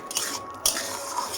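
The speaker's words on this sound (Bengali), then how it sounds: "দিয়ে ভালোভাবে আমি একটু নেড়ে নেব।" A spatula stirs ridge gourd in poppy seed paste in a pan, giving soft scraping and wet shuffling sounds with a sharper clink near the middle, close and moderately loud.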